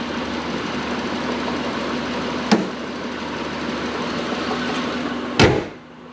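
A 2004 Honda Odyssey 3.5L V6 (J35) idling steadily with an idle control valve issue, a constant low hum with two sharp clunks, like a door or cover closing nearby.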